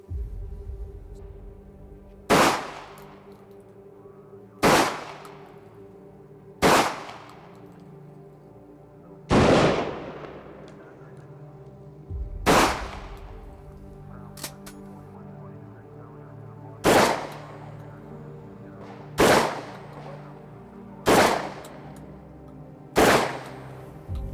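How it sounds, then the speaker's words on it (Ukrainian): Nine loud, sharp gunshots from a shotgun firing 32-gram slug rounds, one at a time at uneven intervals of a few seconds, each booming close by and ringing briefly. "Ми виконаємо по 5 пострілів кульовим набоєм 32 грама"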